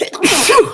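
A single sharp sneeze bursts out up close during a tabletop role-playing game session, loud and brief, followed by a short fading tail.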